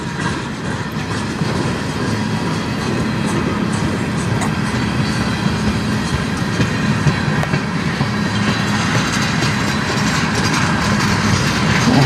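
A CN manifest freight train hauled by locomotives 3257, 3847 and 3868 rolls past in a Sarnia blizzard, a loud continuous rumble and rattle of wagons with faint clickety-clack, mixed with wind noise.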